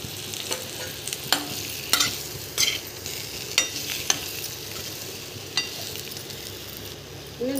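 Masala-stuffed capsicum sizzles softly in a pan as leftover masala is added and stirred, with a spoon clinking and scraping every second or so over the steady frying hiss.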